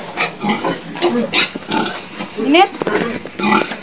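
Pigs grunt on a farm, in a pen with an electric fan, in short close bursts mixed in with steady talking.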